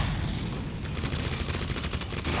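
Gunfire in Resident Evil 2 crackles steadily in fast repeated shots, fairly loud against a dense background of game noise.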